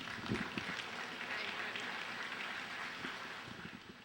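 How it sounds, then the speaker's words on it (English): Audience applause at a workforce development training event as a speaker walks to the podium, a soft, steady patter of clapping from a moderate crowd, fairly faint, with no voices. "please give her a round of applause as she comes."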